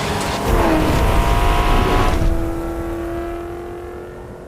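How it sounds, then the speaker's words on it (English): A Corvette C8 in the racing game Forza Horizon 5 roars loudly as it accelerates with tires squealing, then the engine note settles into a steadier, fading drone as it drives on. "You then drive this Corvette C8 into a sandstorm."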